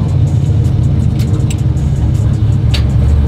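A sequential-shift burnout truck's engine holds a loud, steady low rumble throughout, close and continuous with no voices over it.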